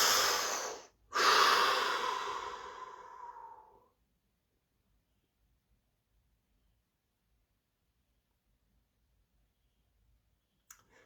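One deep breath, a long in-breath then a slow, close exhale fading out over a few seconds, followed by near silence and a faint click at the end.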